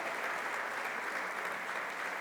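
A church congregation clapping together in praise during a Spanish-language service, a dense, steady wash of applause filling the room at close range, with no speech over it.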